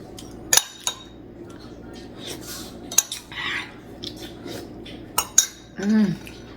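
Dishes and cutlery being washed at a kitchen sink: scattered sharp clinks and clatters of metal and crockery, close by, with quiet background murmur between knocks.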